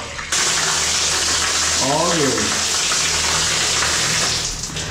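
A steady shower stream of water hisses loudly and continuously for several seconds, close up, with someone speaking briefly over it.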